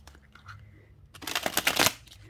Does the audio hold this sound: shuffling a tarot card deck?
yes